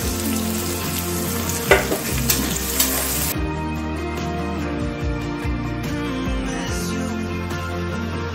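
Vegetables for homemade noodles frying in a pan over a high flame, a steady crackling sizzle with a few sharp stirring knocks early on, no talking.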